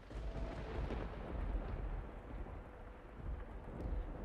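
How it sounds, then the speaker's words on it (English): Heavy rain in a dark night scene of the video game Fata Morgana, a dense low rumbling downpour with no distinct drops, steady and fairly loud throughout, no speech. "The only sounds that could be heard in the dark corridors were the sharp pitter-patter of the rain"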